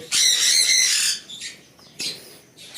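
Sun conure chicks give harsh, loud squawks at close range: one long raspy call followed by two shorter bursts, with no talking.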